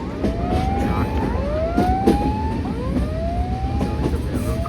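A railroad crossing warning signal in southern Romania rings with repeated descending electronic tones, loud and near, the bell-like pulses following one another in a steady rhythm.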